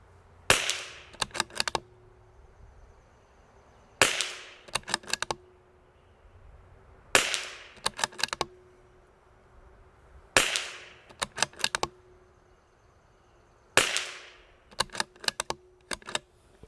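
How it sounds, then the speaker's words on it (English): Rifle shots from a CZ457 rimfire during a barrel test, five sharp cracks spaced roughly three seconds apart, each followed by a quick cluster of mechanical bolt clicks, close and loud with no talk. "We're gonna shoot 5 more just to see"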